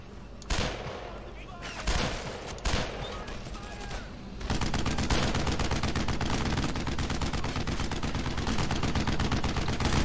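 Sustained automatic gunfire in the World War II shooter game Brothers in Arms: Road to Hill 30, starting with a few separate sharp shots and then breaking into a dense, continuous rattle of rapid fire.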